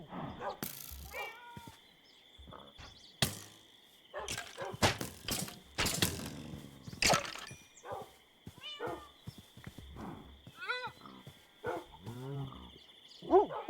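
Animals in a video game howl and cry out in scattered, drawn-out calls, mixed with sharp sound effects and bursts of game noise, some calls close and others fainter.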